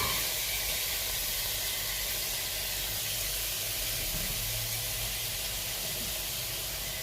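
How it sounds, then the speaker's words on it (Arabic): Onions sizzling in butter in a pan, a steady, dense hiss that holds evenly and fairly loud throughout with no talk. "غنضيفوا شويه ديال الزبده، من بعد غادي نضيفوا البصل"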